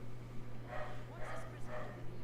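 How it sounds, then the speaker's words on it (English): A dog barks a few times in the background of a room, the short yips spread out under a steady electrical hum, with a person talking nearby. "Sorry about the dog barking."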